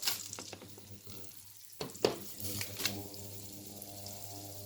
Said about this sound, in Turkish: şimdi yağımızı eritiyoruz